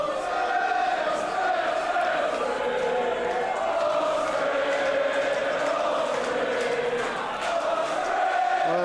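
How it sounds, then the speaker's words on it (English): A wrestling crowd at an IPW live event chants a wrestler's name, a steady, rhythmic roar of many voices filling the hall, with a commentator talking over it. "some fans chanting his name, starting to turn these people in his favour"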